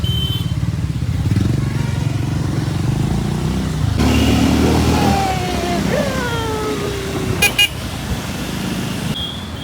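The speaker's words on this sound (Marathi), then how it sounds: "फर्स्ट टाइम आम्ही आमच्या बाईकवर राईड करत आहे" A new Scrambler motorcycle is ridden on the road, its engine a steady rumble, and a horn toots partway through with other traffic passing.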